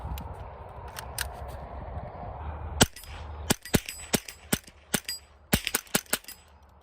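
A CMMG .22 LR conversion kit rifle firing Remington Golden Bullet rounds outdoors, a string of sharp, close shots after a low rumble, coming irregularly in quick bursts with short pauses between.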